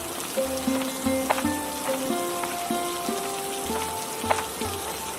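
Cartoon rain falls as a continuous sizzling hiss, with a plinking tonal melody running over it throughout.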